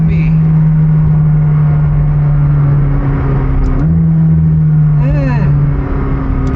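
A McLaren sports car engine drones at a steady, low pitch close by, then briefly revs higher in short bursts before settling again.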